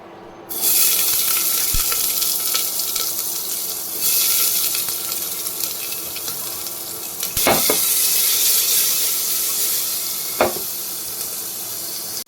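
Onion frying in oil in a pan with chicken marinated in lemon, salt and black pepper, a loud steady sizzle lasting throughout, with occasional stirring clatters and knocks, close up and without talk.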